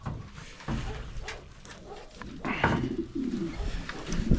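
Indian fantail pigeons coo in a close aviary, low throaty rolling calls overlapping in steady bursts, with some rustling and background noise and no talking.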